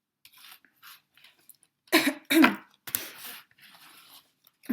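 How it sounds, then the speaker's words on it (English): A person coughs in a few loud, harsh bursts near the middle, with quieter throat and mouth noises around them and otherwise near silence. "Coughing up all in your face right now"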